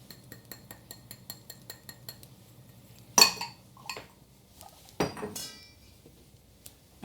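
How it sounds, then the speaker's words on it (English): Sugar and cornstarch being combined in a pot at the stove, with a few sharp clinks and scrapes of a utensil against metal after a stretch of faint ticking, no talk. "we're going to start by combining our sugar with our cornstarch"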